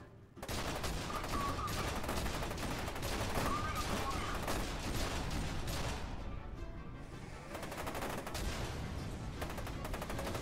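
Heavy gunfire and blasts from the first-person shooter F.E.A.R. 2: Project Origin, a dense continuous barrage of shots and explosions that stays loud for the whole stretch, easing slightly near the middle before building again.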